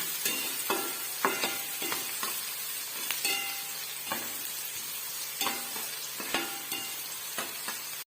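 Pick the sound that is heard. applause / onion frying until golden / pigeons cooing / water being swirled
onion frying until golden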